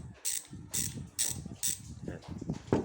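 Freewheel clicking from a Speedone Torpedo 8-pawl bicycle hub as the wheel spins, with four bright bursts of rapid ratchet ticks, then softer, quicker clicking trailing off.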